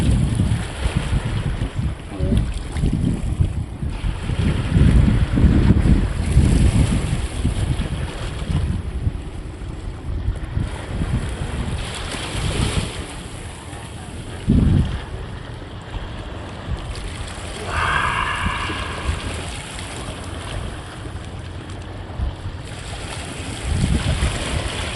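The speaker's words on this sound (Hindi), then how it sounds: "हवा बड़ी तेज़ आपको आवाज़ आती होगी हवा की" Strong wind buffets the microphone in gusty rumbling bursts while a boat moves across the water at Khanpur, with faint water and engine sounds beneath. Someone talks over it.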